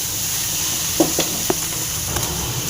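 Potatoes frying in a pan for a puri side dish, giving a soft, steady sizzle with a few light spatula taps and scrapes, close and fairly quiet.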